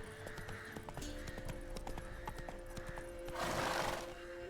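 Roach, the horse in The Witcher 3, gallops with steady clip-clopping hoofbeats and a whinny, joined near the end by a louder burst of rushing noise.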